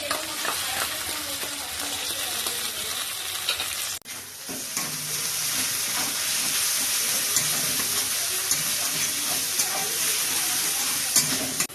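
Ginger, dry chilli and cumin pastes sizzle in hot oil with a steady loud hiss, broken by a sharp jump as they go into the pan and stirring scrapes throughout.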